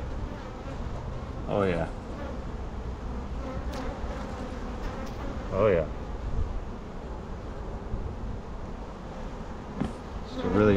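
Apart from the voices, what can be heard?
honey bees buzzing around the hive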